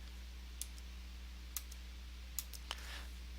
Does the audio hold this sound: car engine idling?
no